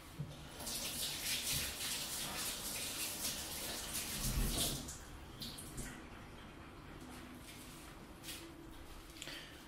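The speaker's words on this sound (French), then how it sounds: "je me suis rincé les mains un petit peu" A bathroom or kitchen faucet runs steadily while hands are rinsed of oil used to clean makeup brushes, with brief splashing peaks around the middle and a softer flow toward the end.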